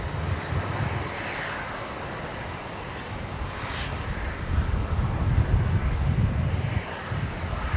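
An Airbus A350 jet airliner departs Brisbane Airport bound for Auckland, its broad engine roar rumbling steadily and swelling louder toward the latter part, heard from a distance outdoors with no talk.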